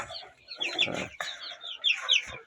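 Chickens and chicks in a yard give off a series of soft, close clucks and high peeps in short bursts with brief pauses between them.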